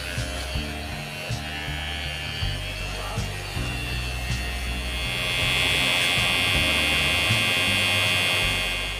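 A Maxtop electric hair trimmer buzzes steadily with a harmonic motor hum, close up, its pitch shifting and growing louder partway through.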